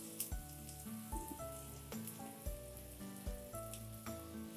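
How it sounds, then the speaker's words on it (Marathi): Finely chopped onion fries in two spoons of hot oil for a fresh pigeon pea amti, giving a soft sizzle broken by repeated spatula stirs and scrapes, close and quiet with no talk. "तेल गरम झालेलं आहे, त्यात जाईल अर्धा बारीक कापलेला कांदा. कांदा ब्राऊन होईपर्यंत चांगला भाजून घेऊया."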